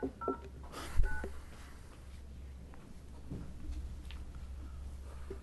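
Telephone keypad tones as a caller dials into a committee meeting's phone line: a few short beeps near the start, then a faint hum in a quiet room.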